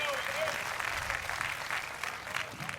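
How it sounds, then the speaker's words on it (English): Crowd applause rises at a women's beach volleyball final after a long rally, a steady wash of clapping from spectators at a moderate distance with an announcer's voice over it. "How about a round of applause for Lauderdale?"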